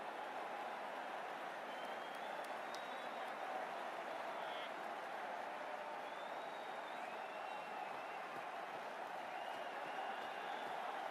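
Crowd at a cricket match murmuring restlessly, a low steady wash of distant chatter filling the stands, faint and unbroken with a few scattered claps and higher calls drifting over it.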